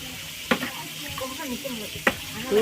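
Steady sizzling of food frying in a pot in a school kitchen, with a couple of sharp scrapes as it is stirred; a voice murmurs faintly underneath.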